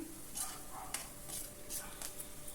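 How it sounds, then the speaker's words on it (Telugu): Onions frying in oil in a pot for a chicken fry, sizzling steadily with repeated stirring scrapes as they cook until brown, fairly faint and close, with no talk. "ఇలా బ్రౌన్ కలర్ వచ్చే వరకు చక్కగా వేపుకోవాలండి ఉల్లిపాయని."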